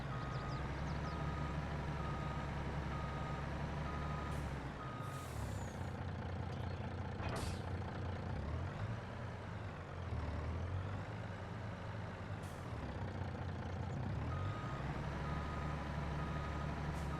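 A heavy truck backs up in a logging game on a forest worksite, its reversing beeps repeating steadily over a low diesel drone, with sharp hisses of air brakes breaking in now and then.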